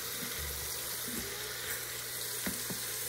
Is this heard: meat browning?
yes